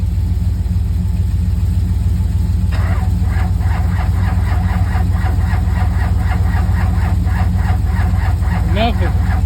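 A Duramax LV7 diesel truck engine cranking without starting, heard as a steady rhythmic churn under a loud continuous hum, with people talking nearby.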